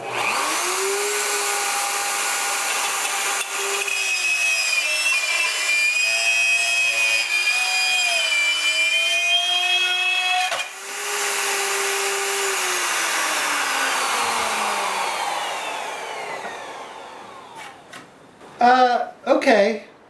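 A Bosch router in its plunge base spins a spiral upcut bit through red oak, a loud sustained whine with shifting pitch that winds down near the end, followed by a few short bursts of noise.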